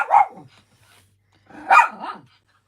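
A dog barks twice, loud and close, each bark a short, rough, downward-sliding burst with a pause of about a second between them.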